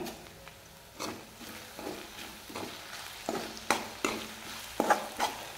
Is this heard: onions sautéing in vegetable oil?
yes